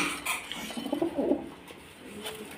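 A pair of pigeons cooing close by, soft low repeated coos over a faint background hiss.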